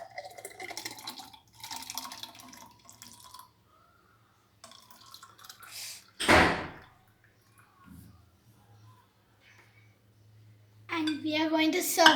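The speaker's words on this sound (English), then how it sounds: "we are going to pour the juice into the glass." Pumpkin juice pours into a glass in a short burst, a splashing stream lasting under a second, framed by quiet talk before and after.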